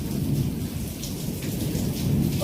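Heavy monsoon rain pours steadily with a low rumble of thunder, loud and continuous, with no voices.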